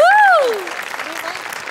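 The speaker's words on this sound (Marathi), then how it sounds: "त्यांच्यासाठी एकदा टाळ्या वाजूया" A studio audience at the Marathi comedy show Maharashtrachi Hasya Jatra breaks into a short burst of clapping that follows a brief whooping voice.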